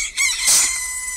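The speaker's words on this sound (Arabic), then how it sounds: "دي فرخة" A Roblox game chicken clucks and crows in a quick, fairly loud burst, with no talking over it.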